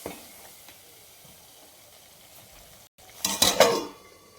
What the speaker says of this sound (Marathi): याच्यावर ठेवू झाकण आणि याला मस्त खळखळी उकळी आणून घेऊ.